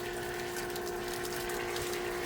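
Water drains steadily out of a 17-year-old water heater in a constant rushing flow with a steady hum, alone and unchanging throughout.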